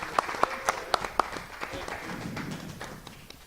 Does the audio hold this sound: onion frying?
no